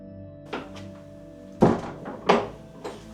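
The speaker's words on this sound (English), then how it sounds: "That's a big heavy old door." A big, heavy old wooden door of an ancient clifftop church in Tintagel, Cornwall, makes several dull thunks and knocks as it is moved and shut, close by and with no talking.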